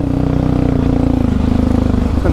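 Yamaha Raptor 700 ATV with an R5 exhaust and Fuel Customs intake, its engine throbbing loud and close in a steady, throaty rumble for a couple of seconds, with no one speaking.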